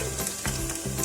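Onion sizzling as it hits a hot pan for a spinach and beef dish, a brief crackling fry with a soft stir, close and alone.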